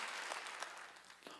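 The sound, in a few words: congregation applauding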